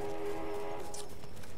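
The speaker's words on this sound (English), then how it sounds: "And I do believe that's the sound of the train." Train in a 32-versus-32 hardcore conquest match on Xbox One, a steady horn-like tonal drone with rail rumble beneath, loud and close, fading slightly after a second.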